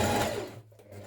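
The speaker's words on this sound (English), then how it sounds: "I'm going to stitch a few millimetres from this seam here" Sewing machine running steadily while understitching a dress pocket a few millimetres from the seam, a continuous close whir that eases off partway through.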